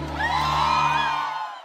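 A crowd at a party answers a call with a loud, drawn-out collective shout of "ui," many voices rising together for about a second before trailing off.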